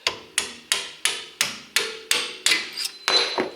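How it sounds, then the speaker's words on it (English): Hammer blows drive a punch against a lower control arm bolt on a 2004-2008 Acura TSX / Honda Accord, about ten sharp metallic strikes at an even, brisk pace, close up and with no talk. "we're going to use this punch, put it on the center of the bolt"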